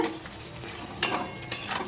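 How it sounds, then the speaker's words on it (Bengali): Chicken sautéed in a pan sizzles steadily up close, with two sharp stirring scrapes of a utensil against the pan partway through. "আর এদিকে চিকেনটা কষানো হচ্ছে"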